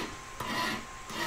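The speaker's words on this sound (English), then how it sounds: "I like using a nice coarse file." A coarse hand file rasps across a metal collet in a single continuous stroke, close and fairly loud, with a gritty scraping texture.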